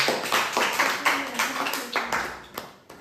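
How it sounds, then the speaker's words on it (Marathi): Children clap for a classmate named Saloni in a classroom brain game, giving a moderately loud run of uneven, rhythmic claps close by that lasts about three seconds, with an adult voice partly audible underneath. "तर सलोनीसाठी एकदा टाळ्या वाजवा"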